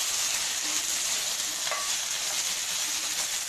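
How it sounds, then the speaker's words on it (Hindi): Ginger, garlic and green chili paste frying in a pan, giving a steady, even hiss that runs unbroken at close range with no talking. "अदरक लहसुन हरी मिर्ची का पेस्ट नमक हम बाद में ऐड करेंगे जब हम कीमा डाल देंगे इसे अच्छी तरह से आप भून लें"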